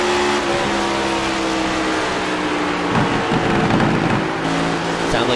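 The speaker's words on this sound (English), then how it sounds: "Sound like a downshift there." A race car engine in an Area 51 Racing League NextGen Series race drones loudly and steadily through Turn 3, its pitch shifting briefly midway as it downshifts before settling back into a sustained roar.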